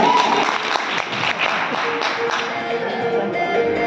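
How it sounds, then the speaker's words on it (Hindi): An audience at an event applauds loudly. Dense, steady clapping fills the clip at an even level from start to finish. "तो एक बार जोरदार तालियां बजाओ सरवादी के लिए।"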